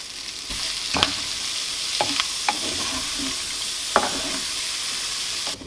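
Frozen peas sizzle steadily in a hot pan alongside chicken, giving a constant close frying hiss broken by a few sharp stirring clicks and pops.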